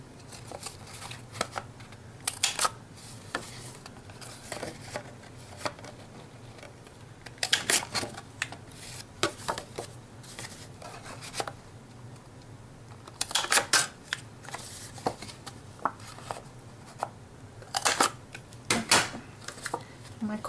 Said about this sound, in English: I think I might round these corners too. Let's see if I've got the corner rounder handy.